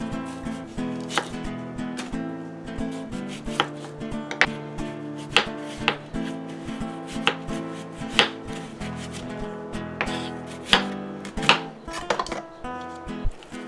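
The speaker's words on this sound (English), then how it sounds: "we're going to cut the onion the long way in thin strips" A knife chops half of a large onion lengthwise into thin strips on a cutting board, giving a steady run of sharp, close knocks over sustained background music, with no talking.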